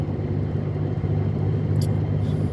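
Car driving along a road, with a steady low engine and road rumble running continuously and fairly loud throughout, no other distinct sounds standing out.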